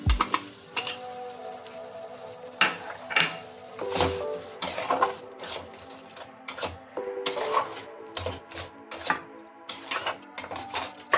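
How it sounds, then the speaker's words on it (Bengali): A spoon stirs and tosses vegetables with salt, sugar and spices in a pan for matar paneer, producing close, irregular scraping and metallic clinks that come in short bursts. "সব কিছু একসাথে একটু মাখিয়ে নিচ্ছি যাতে সবজিগুলোর সাথে নুন আর মশলাগুলো"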